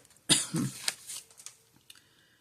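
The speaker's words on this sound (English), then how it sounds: "Still have my cough." A couple of harsh, close coughs in quick succession, followed by a softer throat sound and faint clinks.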